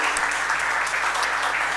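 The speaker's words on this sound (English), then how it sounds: "Give a round of applause to the Creative Arts Academy for letting me do this." Steady audience applause fills a live one-man theatre show at an arts academy in Kolkata, dense and even clapping holding at a constant level throughout with no voices on top.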